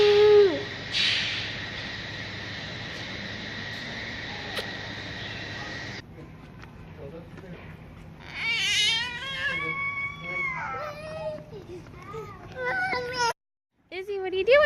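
A young child imitates an owl hoot at home, giving several wavering hooting and squealing calls mixed with an adult's talk and other household sounds.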